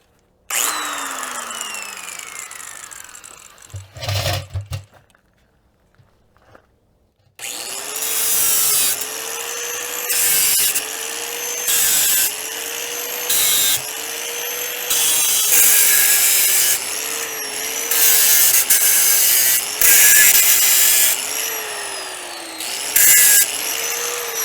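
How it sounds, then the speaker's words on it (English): A cutoff wheel cuts metal in a motorcycle workshop, spinning up with a rising whine, then grinding in repeated loud bursts separated by short pauses, each pass a harsh screeching rasp. "I get to use my cutoff wheel."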